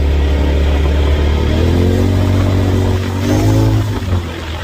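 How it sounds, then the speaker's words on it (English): A Turbo R side-by-side off-road vehicle drives steadily close by, its engine droning loudly and revving up near the end, with no talking over it. "I've never drove one, so this is the first time I've ever driven a side by side ever"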